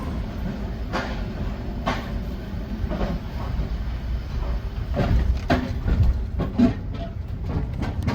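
Train carrying a car and trailer through the Channel Tunnel to France, a steady low rumble with periodic rail clacks and rattles of the carriage, fairly close and continuous.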